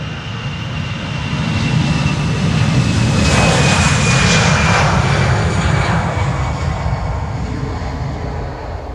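Air Arabia Maroc jet airliner taking off from Schiphol's Polderbaan runway, a loud sustained engine roar that swells and holds steady, with a high whining tone sliding slowly downward across the takeoff.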